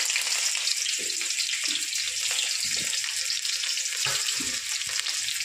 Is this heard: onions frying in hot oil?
yes